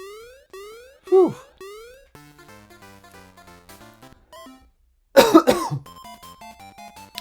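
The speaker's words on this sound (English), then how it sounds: "I apologize everyone if I'm coughing a little too much." A person with a dry throat gives two short, sharp coughs a few seconds apart, up close over bouncy, tonal arcade game music.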